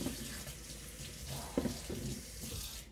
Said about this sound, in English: I always add water, swish it around